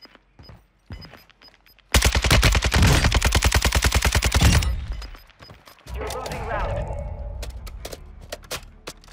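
Rapid automatic gunfire in Warzone 2.0, a loud sustained burst of closely spaced shots lasting a few seconds, followed by game noise and brief talk.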